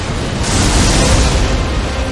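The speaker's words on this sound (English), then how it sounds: "all of his attacks will now have a huge lightning explosion" A lightning explosion attack from a boss in Elden Ring, a loud sustained crackling boom with a burst of rushing noise swelling in the middle of the clip, alone without talk.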